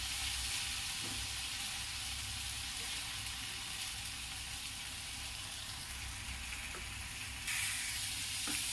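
Vegetables tossed with masala and salt roast in a pan on the stove, giving a steady, even sizzle and hiss throughout with a few faint stirring clicks and a brief louder surge near the end.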